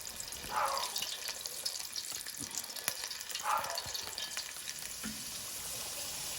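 Shrimp fry in hot oil in a pot, a steady crackling sizzle throughout with occasional louder pops and stirring scrapes, close and continuous.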